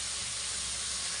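Dhoka (lentil cakes) and potatoes frying in hot oil, giving off a steady, dense hiss and sizzle that holds even and close throughout with no voices.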